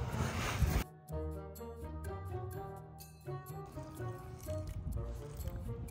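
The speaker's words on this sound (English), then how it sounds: "Why did you dump cold water on me?" Cold water dumped onto a person playing with Barbie beach toys, a sudden splashing pour followed by wet drips and sloshing, loud and close, with no voices.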